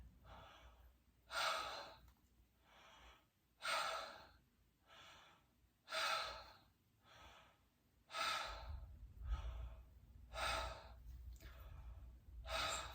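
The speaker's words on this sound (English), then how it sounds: "Okay, another deep breath." A patient takes slow, deep breaths during a lung exam, each long, airy inhale and exhale repeating about every two to three seconds, close and fairly quiet in a calm room.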